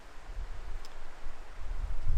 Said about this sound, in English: it's extremely windy, and you could probably hear that too